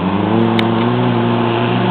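A race car engine drones steadily at the Boisdale hillclimb, a continuous loud, even hum heard from a distance with no break.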